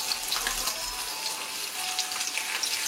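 Rib of beef frying in a pan, fat melting off it with a steady, close hiss and crackle that holds evenly throughout, no voices over it.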